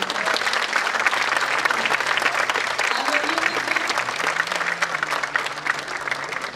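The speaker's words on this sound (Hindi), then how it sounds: "और हमारे म्यूजिशियंस के लिए एक बार जोरदार तालियां हो।" An audience gives loud, sustained applause for the musicians after a Nautanki folk stage play, dense clapping filling the hall while a voice speaks over it.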